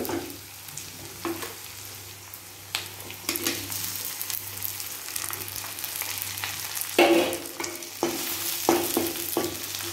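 Onions and tomatoes sautéing in a pan for a horse gram chutney, with a steady sizzle and repeated scraping stirs of a spoon, close and prominent with no talking.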